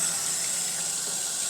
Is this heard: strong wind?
no